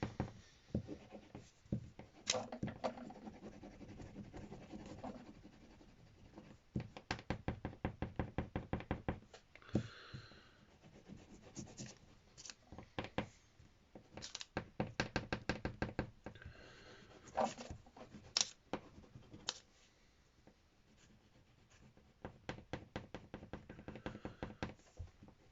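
Marker or crayon drawing pink onto origami paper for a pig, heard as close, intermittent scratchy strokes and taps on a hard surface, in bursts separated by short pauses, with no talking.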